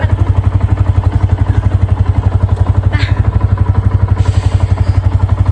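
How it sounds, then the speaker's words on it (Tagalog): A motorcycle engine warming up, idling with a steady, rapid low thump close by and a light mechanical clatter, no talking. "Warm up guys, warm up muna ng motor."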